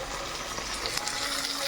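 Chopped green chillies fry in a hot pan with a constant, close sizzle and light bubbling hiss that continues evenly throughout.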